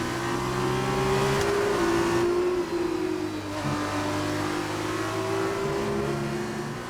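A Formula 2 race car in the F1 2019 video game holds a loud, steady high-pitched engine whine, with slight pitch shifts as it revs and shifts gears. It runs without pause throughout, and no one talks.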